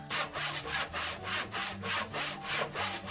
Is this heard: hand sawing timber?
yes